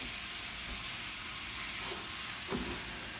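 Food sizzles steadily in a pan on a stovetop, a soft continuous hiss with a brief clatter near the end and no talking.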